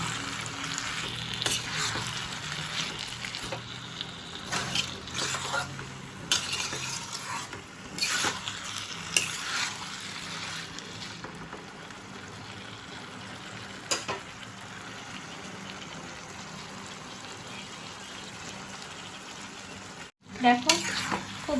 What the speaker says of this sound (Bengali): এবারে আমি এই আলুগুলো যে ভেজে রেখেছিলাম সেগুলো দিয়ে ভালো করে মিশিয়ে নিচ্ছি।